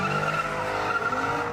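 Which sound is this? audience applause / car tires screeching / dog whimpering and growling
car tires screeching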